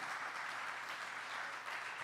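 Church congregation applauds together in a dense, steady wash of clapping. The sound is fairly faint, with no pauses across the stretch.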